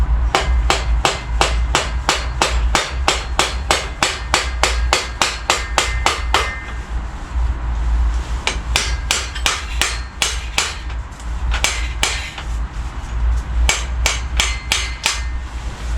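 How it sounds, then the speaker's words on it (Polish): Rapid, steady knocking of a rubber mallet on a crank of a dirt bike, a long run of sharp taps, a short pause, then more irregular blows, close and loud. "Następnie poprzez uderzenie gumowym młoteczkiem"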